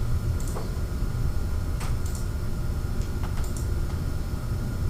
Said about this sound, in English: you just have to start typing a name?